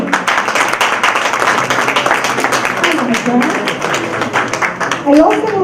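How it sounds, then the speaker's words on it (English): Audience applause at a Hispanic Chambers of Commerce event at Macy's, loud, dense clapping from a crowd carrying on throughout, with voices murmuring underneath and a speaker starting up near the end. "let's give a round of applause to the Vice President of Henry George School."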